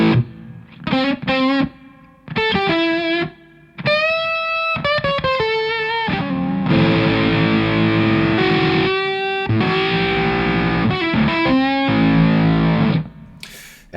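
A DS Custom Audio Blender octafuzz pedal driven by a P90 single-coil electric guitar plays loud, heavily distorted, buzzy fuzz: clipped stabs and short chopped chords at first, then longer sustained ringing chords with octave overtones, with no voices.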